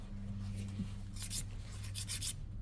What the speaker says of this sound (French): Je lime bien droit.